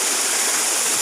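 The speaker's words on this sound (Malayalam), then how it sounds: "വെള്ളം ഒഴുകി വരുന്നത് കാണിക്കുവാൻ എനിക്ക് സാധിക്കും" A monsoon-swollen waterfall stream at Marayoor in the Western Ghats rushes loudly and continuously, a dense, even hiss of flowing water close by with no voices.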